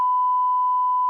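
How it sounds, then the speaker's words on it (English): A single steady censorship bleep, a pure electronic tone held loud and unbroken for just over a second, masking swearing in a broadcast. "This has got to be a record for beeps for Tom."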